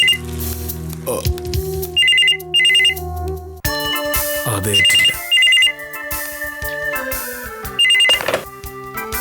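A telephone rings in a home, its repeated electronic ring bursts sounding loud and close over background music, with brief voices in between.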